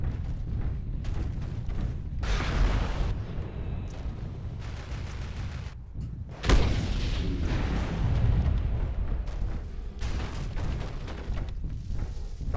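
Weapons fire and explosions rumble through a MechWarrior Living Legends battle on the Chaos March Clearcut map, with dense booming bursts throughout and one sharp, loud blast standing out midway.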